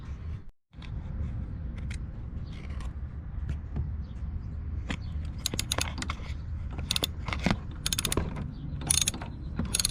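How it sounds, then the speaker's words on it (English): Ratchet wrench tightening a battery terminal nut on a 2018 Honda Fit, a close run of quick mechanical clicks that grows denser and louder toward the end, with no talking. "I'm gonna tighten this down quick."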